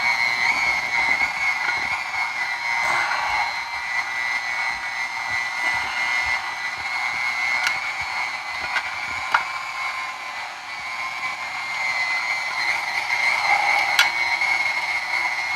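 Meat grinder grinding chicken sausage meat at home, a steady loud motor whine droning throughout with occasional clicks and creaks, no talk over it.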